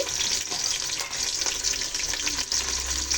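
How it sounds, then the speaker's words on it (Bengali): Potato pieces fry in oil in a pan, salted and spiced with turmeric for a mutton dish, making a constant loud, hissing sizzle with light crackle throughout. No one speaks. "আলু কেটে নিয়েছি আলুগুলো ভেজে নেব"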